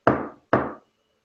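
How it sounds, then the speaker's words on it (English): Two sharp, close knocks on a door about half a second apart, each ringing briefly before fading, with no voices. "she knocks on it"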